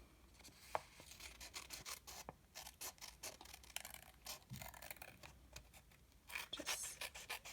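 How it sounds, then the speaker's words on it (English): Scissors trim excess paper from an envelope flap in a quick run of faint, dry snips and rasping scrapes, repeated close by with no voices. "you're just going to take your scissors and you're going to cut all the excess off."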